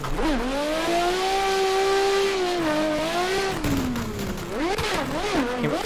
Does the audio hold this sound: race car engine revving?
yes